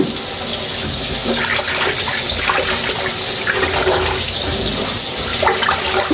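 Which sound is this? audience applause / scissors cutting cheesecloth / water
water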